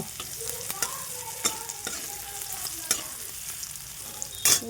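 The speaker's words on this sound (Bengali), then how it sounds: "আর এই যে লঙ্কা পেঁয়াজ কেটেছি এটা ভাজবো" Chopped chili and onion frying in oil in a pan, a soft sizzle with a spatula tapping and scraping the pan every second or so, close by, ending in a louder clatter.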